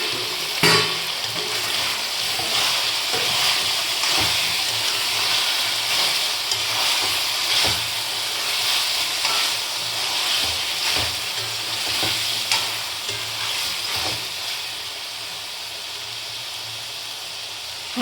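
Steady sizzle of tomato frying in a pan for chicken curry, with repeated scraping stirs cutting through the continuous hiss, no voices.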